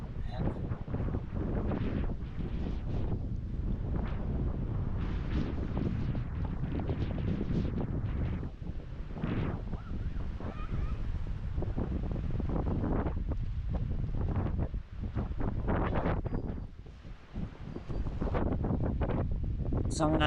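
Wind gusts buffet the microphone at an overnight campsite with tents in Malico, Pangasinan, a dense roaring rush that swells and dips over the whole stretch, with a person talking at moments.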